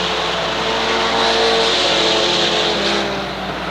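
Mini stock race cars, including Mustangs, roar around the Waterford Speedbowl oval during a feature race, a loud sustained engine drone that swells slightly midway and eases toward the end.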